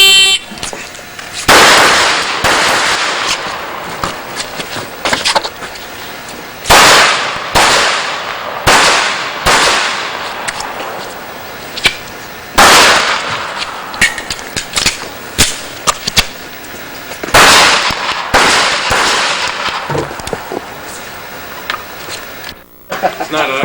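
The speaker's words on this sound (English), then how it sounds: "He's got a Wilson 1911 45." Shots from a Wilson 1911 .45 pistol on a range during a shooting demonstration come as sharp, loud reports in scattered bursts, with people talking between them.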